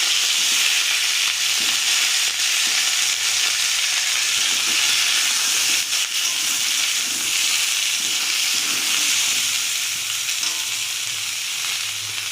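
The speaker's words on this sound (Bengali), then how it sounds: "ফুলকপি আলু ভেজে নেব।" Cauliflower pieces and potatoes fry in white oil in a pan, giving a loud, steady, continuous sizzle with a soft hiss that never lets up and no talking.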